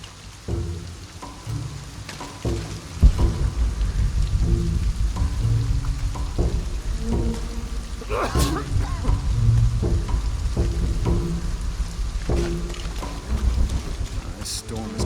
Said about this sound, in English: This storm is coming in quick.